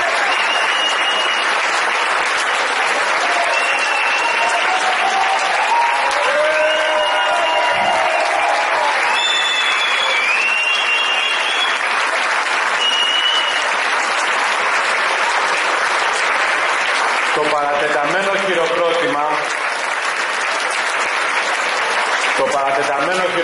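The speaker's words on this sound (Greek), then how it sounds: "Το παρατεταμένο χειροκρότημα" Prolonged applause fills a political rally, with a dense, unbroken roar of clapping from a large crowd that keeps going throughout, while whistles and cheers rise over it at times.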